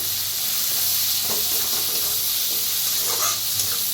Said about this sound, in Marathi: आता ह्याच्यातच टाकूया टमाटर, 2 कापून घेतले ते।